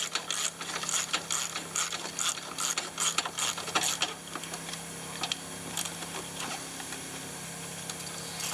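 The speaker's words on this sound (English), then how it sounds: "we're going to get our ratchet" A hand ratchet tightens a bolt with a quick series of sharp, close metallic clicks in the first half, then slows to a few sparse clicks over a steady background hum.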